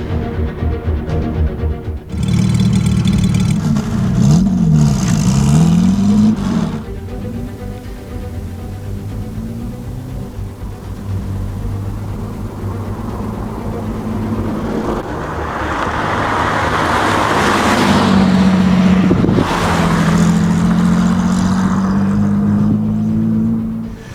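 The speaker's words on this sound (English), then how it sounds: "the car was running pretty good, engine was doing well" A TVR 3000M sports car engine runs steadily up close, revving and easing off, with a louder surge of road and wind noise in the latter half.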